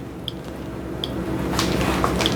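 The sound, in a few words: Ninja single serve coffee maker dripping coffee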